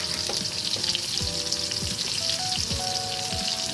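Chopped garlic sizzles loudly in hot oil with soya chunks for veg chow mein, a dense, close frying hiss running throughout, with faint melodic tones underneath.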